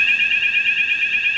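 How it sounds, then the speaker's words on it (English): A fire alarm sounds after a kitchen fire suppression system discharges, a steady piercing electronic tone held continuously with a slight warble, loud and alone. "You have the fire alarm now"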